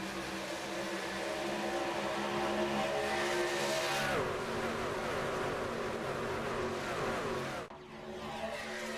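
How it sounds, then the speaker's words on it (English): A pack of race cars in a video game racing series, the Scrambler Series Winter Classic 150, roars past in a close train, engine notes overlapping and sweeping down in pitch as each car passes, loud and continuous with no talk. "just a massive train of cars making their way across the line"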